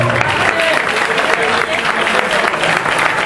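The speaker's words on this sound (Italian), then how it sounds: "Fate un applauso al dottor Cecaloni." Applause at an Italian gathering for Dr. Cecaloni, a dense, close, continuous burst of clapping from a crowd with voices mingled in.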